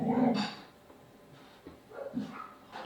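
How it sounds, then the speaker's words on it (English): A dog barks nearby indoors, one loud short bark at the start and then softer yips and whines. "Hey, no barking."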